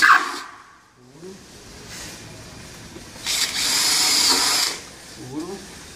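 A power drill bores holes for fitting a sealing profile, with one sustained burst of drilling in the middle, close and loud, while people talk before and after.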